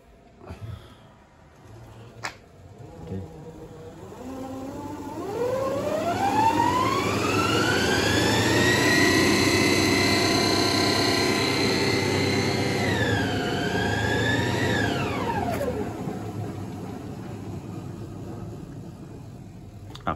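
Sinclair C5 electric trike motor running on 24-volt lithium batteries: a whine that climbs steadily in pitch, holds high and loud, dips briefly, then winds down and stops, close by.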